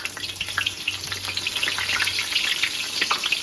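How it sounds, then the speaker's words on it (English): Plantain slices fry in hot oil with a bright, crackling sizzle, dense and close, popping steadily throughout the short stretch with a faint low hum beneath and no talk. "We're gonna fry them until they crispy."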